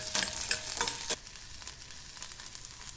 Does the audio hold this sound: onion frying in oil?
yes